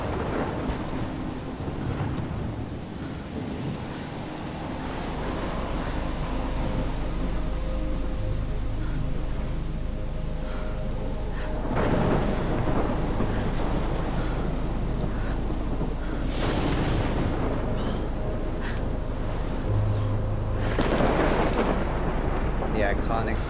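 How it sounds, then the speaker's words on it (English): Storm in the video game Life is Strange: steady heavy rain hissing on surfaces with low rumbling thunder swelling several times, while a voice talks over the downpour. "The iconic storm."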